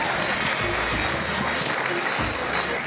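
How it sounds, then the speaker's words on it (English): Wedding reception guests applauding, a continuous patter of clapping with a low rumble of music or room noise beneath it. "One more time, a big round of applause"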